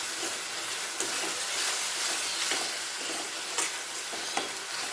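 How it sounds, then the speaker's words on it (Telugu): Mutton curry frying in a pan, a steady dense sizzle and hiss filling the whole stretch, with a few soft stirring scrapes standing out now and then, close and continuous with no voices. "ఇది కూడా పచ్చి వాసన పోయేదాకా వేగనిద్దాం."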